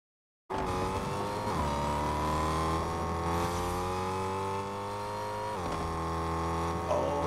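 A car engine in Fortnite starts abruptly and drones steadily under acceleration, its tone sweeping up and dropping with gear shifts, loud and continuous with no talking.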